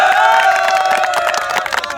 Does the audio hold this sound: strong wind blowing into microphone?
no